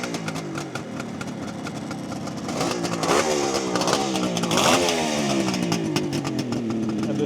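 A 1972 Kawasaki H2 750 Mach IV with a fully rebuilt two-stroke triple engine runs nearby, its raspy idle rising into strong revs and falling back, loud and steady throughout with no talk.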